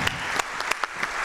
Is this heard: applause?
yes